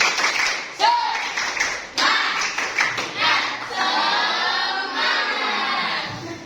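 A classroom group performs the rhythmic 'tepuk semangat' spirit clap, a patterned series of sharp handclaps with pauses, followed by a sustained burst of clapping, with children's voices and shouts mixed throughout.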